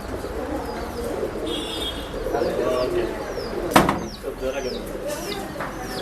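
Pigeons coo repeatedly at a pet shop during a sale, soft rolling calls over a murmur of voices, with chirps and a sharp knock partway through.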